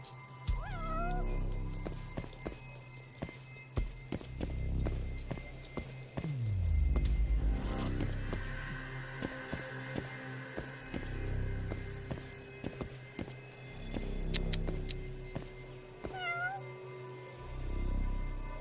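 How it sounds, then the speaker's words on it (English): A cat in the video game Judgment meows repeatedly, with several distinct meows and drawn-out caterwauls over ambient game noise, footsteps and background sounds, moderately close. "I hear a cat."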